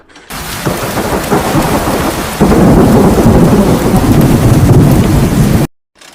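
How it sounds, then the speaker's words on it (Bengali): A thunderstorm's heavy rain roars loud and close while thunder rumbles low beneath it, swelling stronger midway before cutting off abruptly near the end. "যে কোনো সময় ঝড় বৃষ্টি হতে পারে।"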